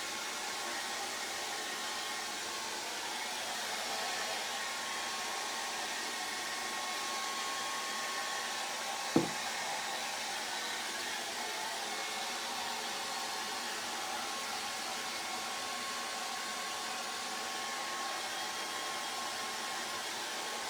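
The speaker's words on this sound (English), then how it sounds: "Right, get your hair dryer." Used on a drippy acrylic celebrity portrait, a hair dryer blows in one continuous, even whoosh with a steady motor whine for about twenty seconds, broken once by a brief knock partway through.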